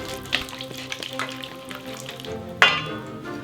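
A whisk beats olive oil into a mustard dressing with ground cumin, salt and pepper, a steady close scraping and swishing in a bowl with a sharper clink near the end.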